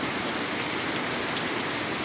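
Long-awaited rain falls over a fishpond in an even, continuous wash of water noise, fairly soft and alone, with no voices.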